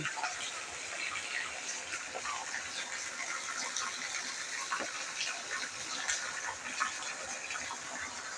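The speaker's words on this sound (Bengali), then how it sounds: "বৃষ্টির জল পড়ছে" Heavy rain pours down outside a house veranda, a steady, even hiss of falling water that runs on without a break and sits fairly soft and distant.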